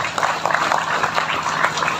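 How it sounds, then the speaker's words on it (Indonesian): Clapping from an audience at an Islamic boarding school gathering during a sermon forms a dense, steady wash of applause that fills the whole two seconds with no speech over it. "Tepuk tangan untuk Ansor dan bangsa"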